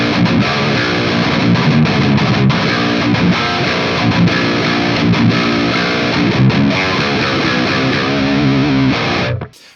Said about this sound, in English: the Super Lead Overdrive Distortion pedal